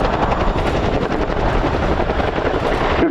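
A Boeing CH-47F Chinook twin-rotor helicopter coming in to land at an air show, its loud, steady rotor thrum and engine roar filling the whole stretch at close range with no talk.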